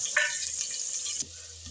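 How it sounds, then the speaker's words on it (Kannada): Mustard seeds splutter in hot oil during tempering for a greens sambar, giving a loud, steady crackling sizzle that cuts off abruptly just past one second and leaves a low hum. "ಸಾಸಿವೆ ಹಾಕ್ಕೊತಾ ಇದ್ದೀನಿ, ಚಟಪಟ ಅಂದಿ"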